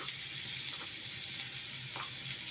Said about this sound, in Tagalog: Gigisa muna natin yung bawang.